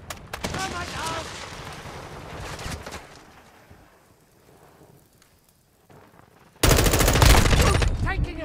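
Gunfire in a Call of Duty match: loud, dense bursts at the start, then a quieter lull, then a sudden heavy roar of fire near the end, with voices talking over it.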